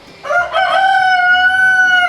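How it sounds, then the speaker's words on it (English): A rooster crows loudly and close by, one long drawn-out call that holds its pitch before trailing off. "the rooster's confused as to what time of day it is"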